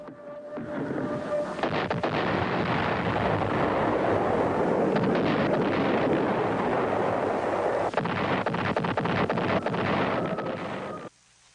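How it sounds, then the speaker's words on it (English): B-52 bombs explode close in around the besieged Khe Sanh base in Vietnam, making a dense, continuous roar of overlapping blasts and rumbling thunder. It stays loud for about eleven seconds and then cuts off abruptly. "From now on, close-in bombing by B-52s would play a major part in the defense."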